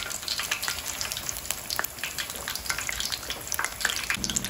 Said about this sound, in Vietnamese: Mình tăng lửa lên chiên cho nó nhanh